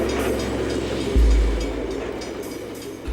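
A coal train rumbling across the Southern Alps in New Zealand, a steady low mechanical drone of rolling wagons with a sudden heavier low thump partway through, then continuing rumble, no voices.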